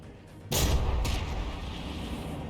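A shell strikes a battleship turret and explodes in From the Depths, a sudden loud blast followed by a second burst and a long rumbling tail.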